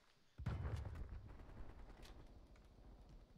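Call of Duty: Cold War gunfire, a sudden burst of rapid shots followed by a continuing rattle of fainter fire and rumble, fairly quiet overall with no voices.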